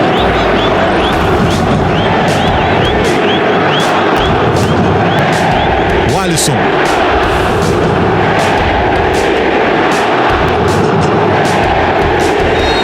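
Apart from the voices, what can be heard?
Cruzeiro football fans jeering the coach in the stadium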